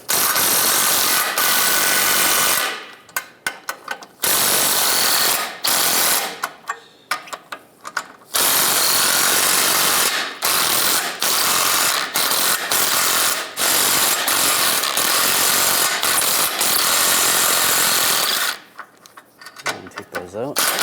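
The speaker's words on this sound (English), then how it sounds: "Use a 13mm socket." Ratchet wrench with a 13mm socket loosening strut bolts on a Volkswagen Beetle, a loud, close clicking that runs in long bursts with several short pauses.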